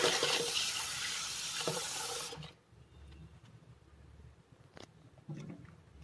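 Shampoo is stirred into hot water in a small tub, with loud, close sloshing and splashing at first, then quieter water with a few faint, scattered splashes.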